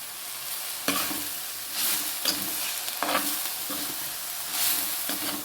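Mustard seeds with rice and urad dal frying in oil, then tender yam leaves added for a Kerala thoran, sizzling steadily while a spoon scrapes and stirs the pan in repeated strokes, close and alone.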